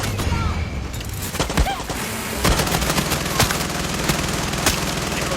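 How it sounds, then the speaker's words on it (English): A minigun fires in the video game Far Cry 6 as a dense, continuous rattle of rapid shots, loud and close, with sharper cracks and impacts scattered through it. "let's try the minigun out"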